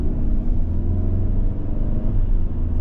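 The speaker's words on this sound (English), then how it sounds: "here we are driving the Sorento" A 2022 Kia Sorento SX with a 2.5-liter four-cylinder engine cruising on the road, heard from inside as a steady, loud low rumble of engine and tire noise with no voices.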